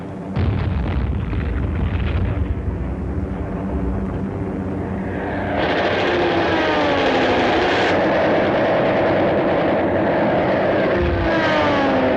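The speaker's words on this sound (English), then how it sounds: "For 3 days, Allied planes attacked their targets." Allied warplanes in a wartime attack on Japanese shipping roar overhead amid heavy explosions and rumbling blasts, with engine drone sweeping through the loud, dense din.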